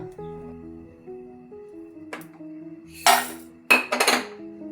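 Rice, almonds, cashews and poppy seeds are lightly roasted in a pan, heard as a few bright metallic scrapes and clinks of a spoon against the pan, close and intermittent over a quiet tonal background.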